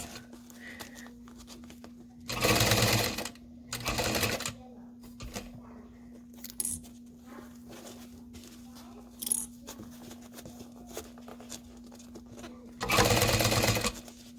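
A sewing machine stitches a backpack in several short bursts: two longer runs near the start, a brief one mid-way and another at the end, separated by quiet handling, with a steady background hum throughout.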